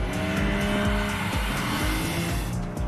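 A BMW M3 E46 with an inline-six engine is pushed hard into a corner, its engine roaring loudly and steadily with tire squeal running underneath. No one speaks.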